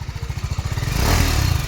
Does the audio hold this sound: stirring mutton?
no